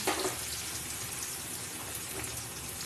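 Chopped onions hitting hot oil in a pan for a Bengali prawn chop curry, giving a steady, moderately loud hiss and crackle of frying that carries on without a break.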